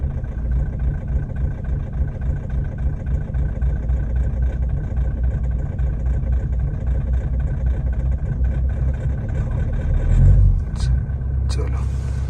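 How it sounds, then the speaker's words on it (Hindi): A Mahindra Thar engine runs at a deep, steady idle after starting at -30°C in winter Spiti, a loud continuous low rumble with a brief surge near the end while people talk over it. "गाड़ी स्टार्ट हो गई एट लास्ट।"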